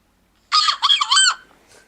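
A human voice imitates a seagull in one loud, harmonic squawking cry of about three quick bursts, close to the mic and followed by quiet.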